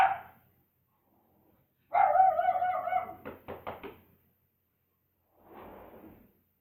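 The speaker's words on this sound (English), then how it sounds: "That's my dog barking." A dog barks indoors in short bursts, a loud close volley of several quick barks followed by a fainter bark after a pause, with quiet gaps between.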